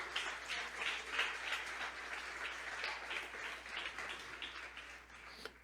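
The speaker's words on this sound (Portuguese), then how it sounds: "Você pode aplaudir ao Senhor?" A church congregation applauding together in continuous, fairly even clapping, heard from some distance with a faint low hum underneath.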